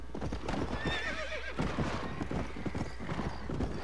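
Horse hooves clip-clop at a quick gallop while a horse neighs, its whinny rising above the steady hoofbeats, fairly close, in Red Dead Redemption.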